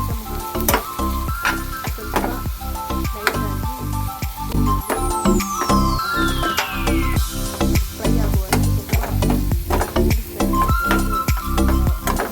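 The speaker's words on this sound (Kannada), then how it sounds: "ಲೋ ಫ್ಲೇಮಲ್ಲಿ ಇಟ್ಟು ಕದಡಿಸ್ತಾ ಇರಬೇಕು. ಸೊ ದಟ್ ಅದು ಮೀಡಿಯಮ್ ಲೋ ಫ್ಲೇಮಲ್ಲಿ ಫ್ರೈ ಆಗ್ತಾ ಇರಬೇಕು." Paneer frying in coconut oil over a medium-low flame while being stirred, a loud close sizzle punctuated by rhythmic spatula scrapes and knocks against the pan, with a brief rising whistle-like tone midway.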